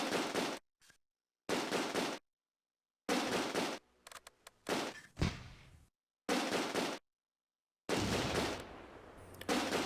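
Gunfire in the Close Combat: A Bridge Too Far war game at the Schijndel dunes, with repeated short crackling bursts of rifle and machine-gun fire separated by silent gaps, plus a couple of heavier, echoing shots that trail off.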